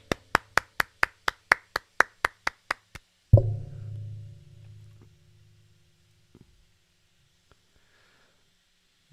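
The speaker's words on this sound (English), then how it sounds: "Let's give him a round of applause." About a dozen sharp, evenly spaced hand claps ring out close and loud in a quick rhythm. A single heavy thump and a low rumble follow, then near silence with a few faint taps.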